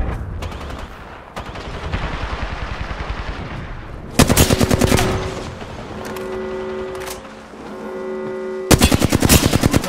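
Rapid automatic gunfire in the video game Apex Legends rattles in long, dense bursts with brief pauses between them, loud and close, mixed with tonal game sound effects.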